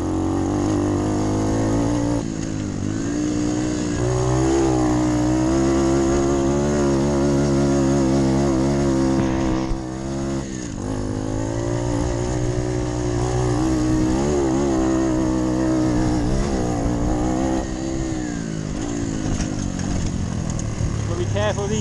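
A moped engine at a five-hour enduro race in Winchester accelerates hard, a buzzing two-stroke whine climbing in pitch and holding loud and close for the whole stretch, with a brief dip midway.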